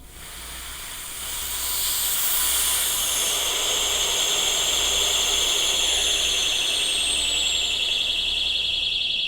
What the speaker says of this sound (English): the alarm is definitely a lot louder now